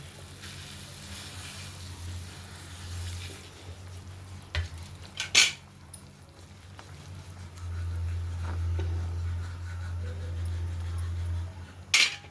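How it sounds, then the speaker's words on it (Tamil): Water bubbles and simmers in a pot while semolina is stirred and tipped in for upma, with a few scraping clinks and a rising boil in the later half. "இப்போ நம்ம வந்து ரவை போட போகிறோம்."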